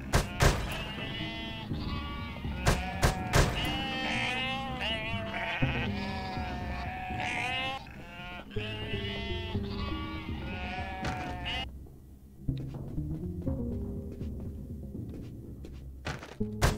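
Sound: sheep bleating in the video game UnMetal

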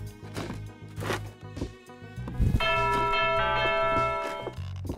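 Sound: big loud bell ringing in a video game

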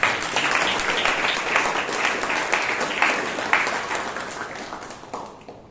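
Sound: audience applause at a Toastmasters meeting

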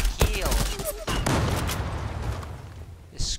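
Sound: gunfire in a video game match

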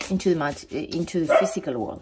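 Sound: dog barking

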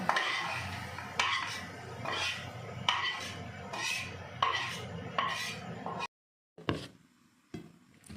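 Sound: jackfruit seed mash put onto a plate

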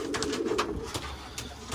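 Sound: angry pet bird

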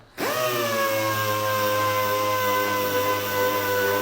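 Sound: pneumatic power tool running

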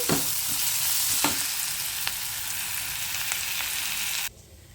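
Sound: stirring rice in a frying pan

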